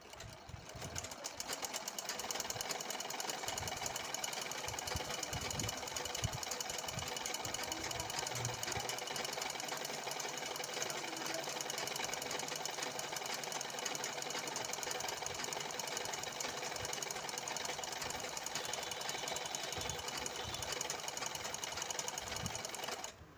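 A sewing machine runs steadily while stitching a cotton blouse, giving a continuous, loud mechanical whir with a fast rhythmic chatter that holds for the whole stretch with no talking.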